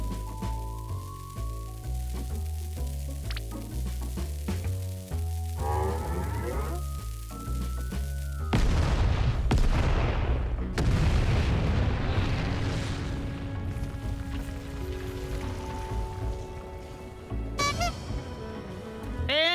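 Bombs go off in Final Fantasy XIV, two heavy booming blasts landing mid-way through, with more rumbling impacts after them, over a bed of game music and scattered sound effects.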